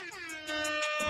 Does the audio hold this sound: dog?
no